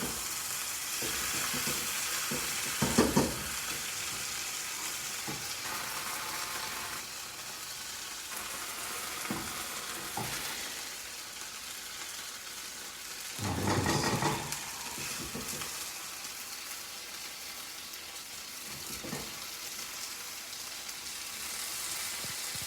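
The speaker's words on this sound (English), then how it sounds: "A little sizzling" Sichuan potatoes stir-fry in a hot pan, a steady close sizzle and crackle that runs throughout, with louder bursts where the food is stirred and tossed.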